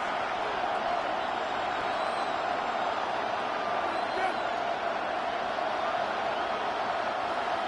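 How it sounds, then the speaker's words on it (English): A steady, distant roar of a packed NFL crowd at Arrowhead Stadium fills the air continuously, a dense wash of cheering with no single voice standing out. "The crowd at Arrowhead roaring."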